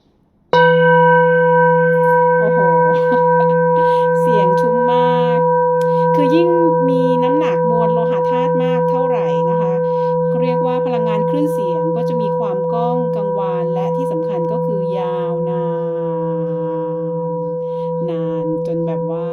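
A 10.5-inch, 2370 g full moon singing bowl rings with a long, steady, pure drone and layered overtones that sustain throughout, while someone talks over it.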